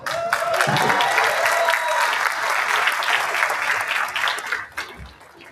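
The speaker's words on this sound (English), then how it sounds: "let's give them a round of applause." Audience applause at a real estate association gathering in Texas: dense, lively clapping from a crowd, sustained for several seconds before tapering off.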